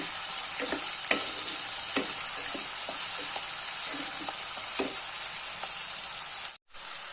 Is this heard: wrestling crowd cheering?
no